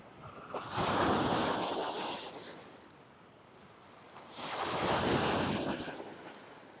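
Sea waves on the shore at Kefalonia: two large surges rolling in and washing out, each swelling to a loud rushing peak and then fading, with wind noise between them and no voices.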